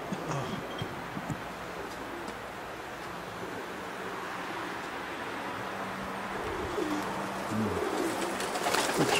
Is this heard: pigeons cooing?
yes